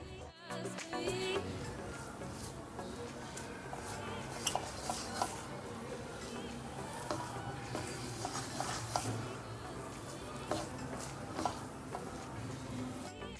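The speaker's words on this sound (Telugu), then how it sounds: "కోవా కంప్లీట్గా ఇలా దగ్గరకు వచ్చేంత వరకు ఫ్రై చేసుకోవాలి" Khoa is fried and stirred in a pan until it thickens. A spoon scrapes and taps quietly against the pan in a steady, irregular rhythm, faint and close, with no talking.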